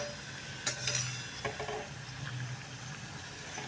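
Rava shankarpali frying in oil while being stirred in a pan, a low steady sizzle under a few clinks of a spoon against the vessel, close and fairly quiet.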